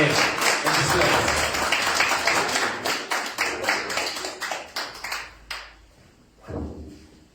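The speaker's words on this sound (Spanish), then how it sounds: "démosle una ofrenda de palmas por la vida del apóstol Romeo" A church congregation breaks into dense applause for an apostle, many hands clapping together at close range, then thinning to scattered claps and fading, with a brief murmur of voices near the end.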